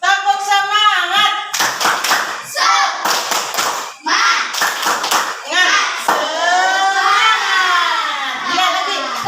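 A school class does the rhythmic 'tepuk semangat' spirit clap, sharp hand claps in patterned bursts mixed with children's voices chanting along, close and loud, with a teacher's voice before and after.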